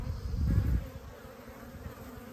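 A single bee buzzes close by in a short, loud burst that fades to a faint background hum, with no talking.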